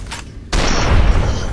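Shotgun fire in a video game booms out suddenly partway through, one loud close blast with a rumbling tail after a quieter lead-in.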